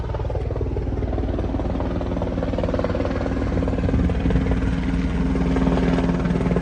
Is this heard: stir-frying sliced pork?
no